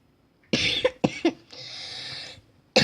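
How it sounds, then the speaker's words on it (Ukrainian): Several harsh, close coughs in quick succession, followed by a longer raspy exhale, then another cough at the end. "Сильно кашляю"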